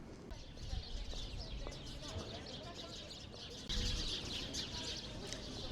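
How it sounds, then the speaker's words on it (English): Many birds chirp and call loudly and continuously in winter in Stockholm, a dense chorus with a brief louder burst partway through. "Guys, do you hear the birds? They are so loud."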